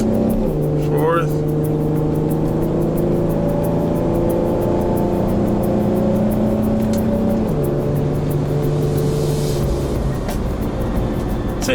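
A G35 Coupe engine, heard from inside the car, accelerates through manual-mode gear changes. Its loud, steady drone climbs in pitch, drops sharply at a shift, then pulls again, with a faint steady ticking above.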